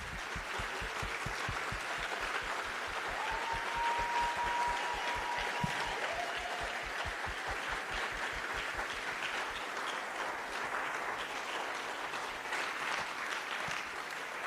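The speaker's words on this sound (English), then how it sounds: "let's give her a big round of applause wherever she is" A standing audience at a memorial celebration breaks into sustained, even applause, a dense wash of clapping that holds steady at moderate loudness for the whole stretch, with a faint tone briefly sliding through the middle.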